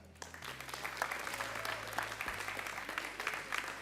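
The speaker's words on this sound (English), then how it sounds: "I like the very civilized just round of applause we're getting from the audience." Esports crowd at a StarCraft 2 UK Masters grand final offering a steady, polite round of applause, moderately quiet and sustained throughout, with a low hum underneath.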